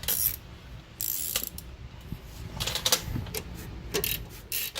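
A ratchet wrench tightens the rear brake caliper bracket bolts on an Infiniti JX35/QX60, giving several bursts of quick clicking pawl ratchets with short pauses and metallic clinks between, close and fairly loud.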